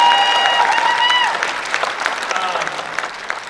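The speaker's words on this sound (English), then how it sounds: "One more deserves another round of applause." An audience at a 2022 Sacramento fast-pitch event applauds, starting with a dense burst of clapping and cheering and then thinning out into scattered claps.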